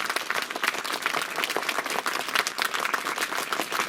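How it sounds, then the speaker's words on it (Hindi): An audience at a school event, where a village head hands out free sweaters to schoolchildren, breaks into vigorous applause. Many hands clap in a thick, crackling wash that stays loud and unbroken throughout. "तो इसके लिए आपकी तरफ से जोरदार तालियों से आभार होना चाहिए प्रधान जी का"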